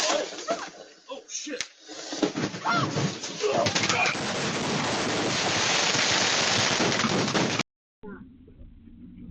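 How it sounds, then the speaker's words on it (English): Fireworks going off inside a garage: a dense, loud barrage of rapid crackling bangs and pops that runs continuously for several seconds, preceded by a few scattered sharp reports, then cuts abruptly to near silence. "A fireworks mishap in a garage erupts into chaos."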